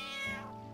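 A cat meows once in Final Fantasy 9, a single clear, fairly close mew that slowly fades, with no talking over it.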